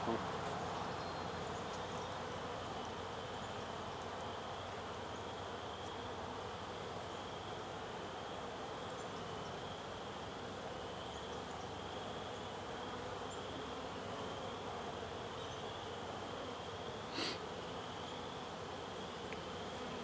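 Honey bees buzzing around an open hive during a beekeeper's spring inspection, a dense continuous drone of many bees close by, with a brief sharp clunk near the end.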